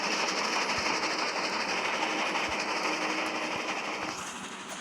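A train in the Roblox-style game Dead Rails rolls along with a steady rumbling roar and faint rhythmic track clacks, loud and continuous, easing slightly toward the end.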